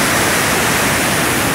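Cachoeira da Chave waterfall near the town centre of Votorantim, running low in the dry season with more rapids than falling water, gives a steady, loud broadband rush of water that fills the whole stretch without a break.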